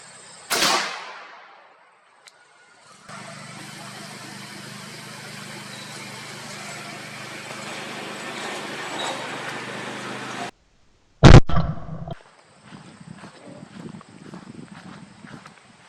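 A Franchi Affinity Elite shotgun fires Winchester Super X number 2 shot during outdoor pattern testing, two sharp, loud blasts about eleven seconds apart with a steady background hiss between them.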